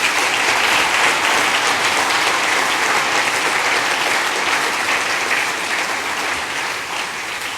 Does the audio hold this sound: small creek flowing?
no